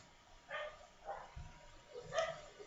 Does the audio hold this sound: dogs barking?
yes